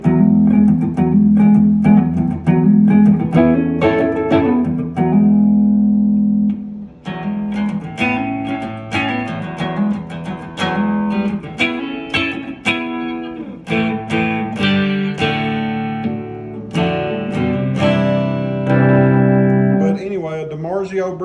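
A Guild S-70 electric guitar with a DiMarzio bridge pickup and a Duncan neck pickup plays a steady stream of loud, ringing notes and chords, the tone shifting through the pickups with brief pauses between phrases.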